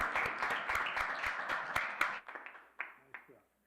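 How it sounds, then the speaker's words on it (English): A round of applause from an audience, sharp individual claps at first thick and steady, then thinning into a few scattered claps as it fades out, with a voice speaking over it. "let's give him another round of applause"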